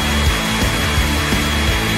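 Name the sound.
hair dryer blowing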